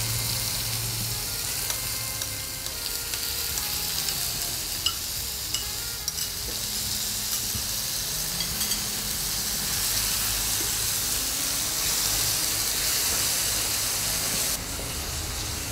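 Onion puree hits a hot pan and fries with a steady, close sizzle and hiss, stirred now and then, continuous for the whole stretch with no talking.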